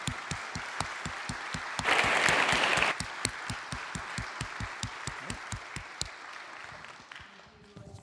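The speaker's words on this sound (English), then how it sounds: "if you could join me in a round of applause for those who have helped make this possible" At a church celebration, an audience claps in a steady, rhythmic beat with a brief swell of louder applause and cheering before it tapers off.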